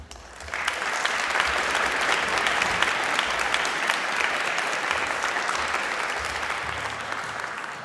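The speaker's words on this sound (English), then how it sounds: "let's have one more round of applause for our 2025 inductees" Audience at a high school Wall of Fame induction ceremony giving a round of applause for the 2025 inductees, a full, steady wash of many hands clapping that continues without a break.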